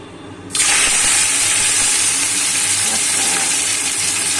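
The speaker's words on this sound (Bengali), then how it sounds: "অল্প অল্প অল্প অল্প করে ভেজে তুলবো" Small kachki fish dropped into hot oil in a pan start frying, a sudden loud sizzling hiss that bursts in and then holds steady and close.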